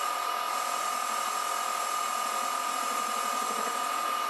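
A metal lathe cuts a thread with a boring bar on a sliding spindle, giving a steady, close machine whine with a fine continuous cutting hiss that holds for about four seconds before stopping abruptly, with no talking.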